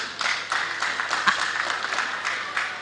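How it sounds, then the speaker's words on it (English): Members of one team at an annual general meeting clap for themselves, a dense continuous applause from a sizeable indoor crowd lasting a few seconds. "clap for yourselves."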